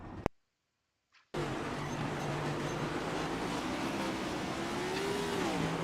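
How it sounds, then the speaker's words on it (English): A race car engine in a racing video game at Bristol starts abruptly after a brief silence. It becomes a loud, steady drone whose pitch sags near the end, as if downshifting. "Something sounds wrong with this car on my end."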